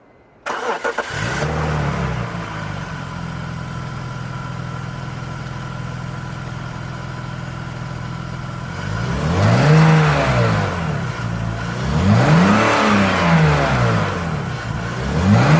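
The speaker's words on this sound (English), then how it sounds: "We'll also do a cold start for the new intake here" BMW E46 3-Series engine fitted with a BMW Performance intake cold-starts with a sharp burst, settles into a steady idle, then rises through two loud revs that fall back to idle, close up with no talking.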